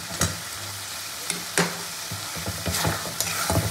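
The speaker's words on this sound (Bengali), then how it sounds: "মাটন রান্নার জন্য মশলাটা কিন্তু সুন্দরভাবে কষানো হয়ে গেছে।" Spice paste for mutton curry sizzles as it is sautéed, with repeated sharp spatula scrapes against the pan over a steady frying hiss, close and without speech.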